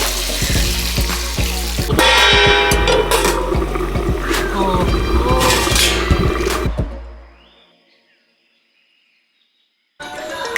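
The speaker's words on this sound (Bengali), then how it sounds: "জল দিয়ে দিচ্ছি" Water pours loudly into a hot pan of rohu fish curry, with bursts of sizzling and bubbling under several sharp knocks, then fading to near silence before a brief return of sound.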